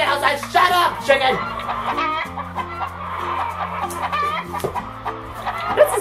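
A chicken clucks repeatedly outside in a rural Southern setting, a close, busy run of clucks with the odd crow-like call, heard alongside a voice speaking and low steady tones underneath.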